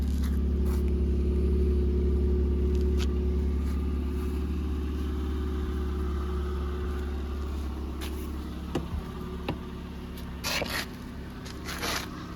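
A Ford Fusion engine idles steadily with a low, even hum, accompanied by a few faint clicks and rustles toward the end.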